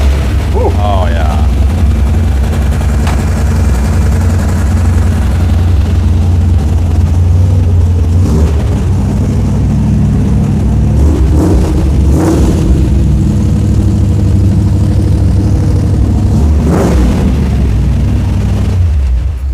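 A custom hot rod's engine idles high just after a cold start, a loud, steady, rumbling drone filling the whole stretch, with a few brief louder surges and some faint voices underneath.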